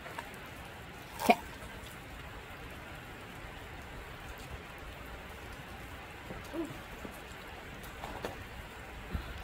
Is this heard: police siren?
no